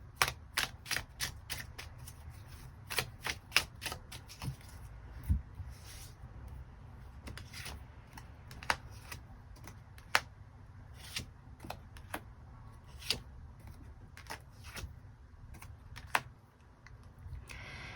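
Tarot cards being shuffled and drawn during a love reading, heard as a steady run of crisp, close clicks and snaps over a low background hum, with no talking.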